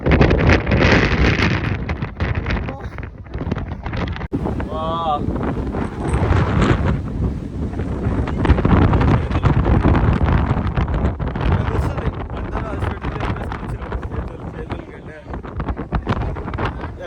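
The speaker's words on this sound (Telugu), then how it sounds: "ఇక్కడ నుంచి ఫుల్ గాలి." Strong wind buffets the microphone in loud, continuous gusts on Mullayanagiri Peak while people talk close by.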